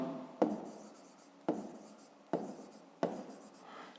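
A pen writes on paper during a fifth-grade maths exercise, four distinct scratchy bursts each starting with a tap as the pen meets the page, quiet and close with no talk.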